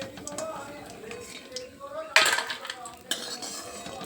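Fried lentil dumplings lifted one by one from a pan of hot oil, metal utensils scraping and clinking against the pan in small taps, with one sharper clatter, over a faint sizzle.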